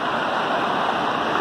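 Rough, heavy surf rolls in at Prainha Branca beach near Bertioga, a steady broadband roar of breaking waves filling the whole moment with no voices over it.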